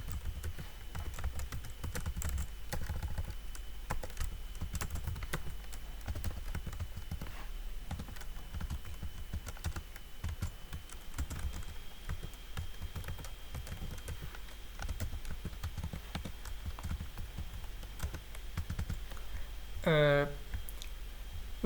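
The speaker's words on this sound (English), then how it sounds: "Let's type in tomorrow learning content." Soft clicking keystrokes on a computer keyboard while entering data into a spreadsheet, quiet and irregular over a low steady hum, with a brief electronic chirp near the end.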